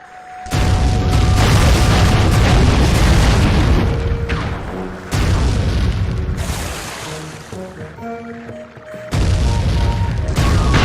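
Cannon shots fired at a boat in the Sly 3 video game land as heavy, loud booms in several separate bursts, with rumbling blasts filling the gaps between them.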